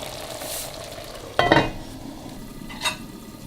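Lamb meat frying with cumin and salt in a pot: a steady sizzle underneath, broken by a loud scraping stir of a utensil against the pot and a second lighter scrape shortly after.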